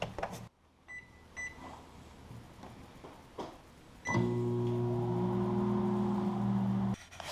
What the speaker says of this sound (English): that's probably about 1 minute and 30 in the microwave